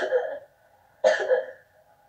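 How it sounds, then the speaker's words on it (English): Two separate coughs, each a short burst followed by a rough trailing rasp, about a second apart, close and fairly loud. "No, I'm actually coughing, man. That's how I cough."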